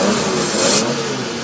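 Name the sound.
Ferrari 250 GTO Colombo V12 engine revving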